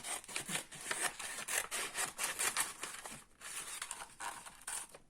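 Cardboard being cut for a handmade summer scrapbook album, a steady run of rough, scratchy cutting strokes repeating close up and fairly loud, with no voices.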